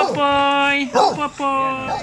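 A dog gives drawn-out whining whimpers and a short yelp, close by and loud, with a person talking over it.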